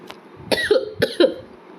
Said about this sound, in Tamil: சாரி கைஸ், கொஞ்சம் இருமல்.